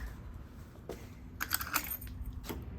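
Door lock on a 1968 Ford Mustang fitted with keyless entry, giving a cluster of sharp mechanical clicks and clunks in a quiet car interior, with a faint earlier tap.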